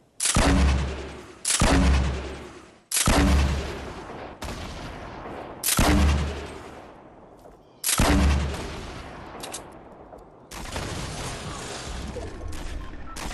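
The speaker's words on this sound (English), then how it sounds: "Can hear him shooting." Enemy player's gunfire in Fortnite Battle Royale, a series of loud, separate heavy shots roughly a second or two apart, each with a sharp onset and decaying tail, followed by a steadier rushing noise at the end.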